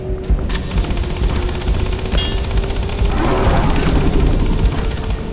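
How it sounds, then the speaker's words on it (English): Gunfire sound effect of bullets fired at Venom from a Jeep during a chase, dense rapid shots in a loud continuous barrage under a heavy rumbling backdrop. "The bullets bounce effortlessly off Venom, unable to deter the monster from its chase."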